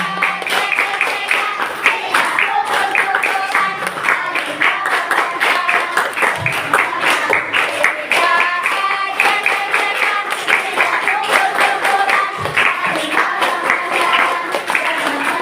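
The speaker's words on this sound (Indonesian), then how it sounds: "Tepuknya bareng, prok, prok, prok, biar bagus" Schoolchildren at a religious gathering clap their hands together in unison, a steady rhythmic patter of many hands kept up without pause, loud and close, with a child or two calling out briefly.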